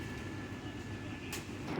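Cabin of a moving Vande Bharat train, with a steady low rumbling hum and a brief sharper rattle near the end, heard up close and fairly quiet.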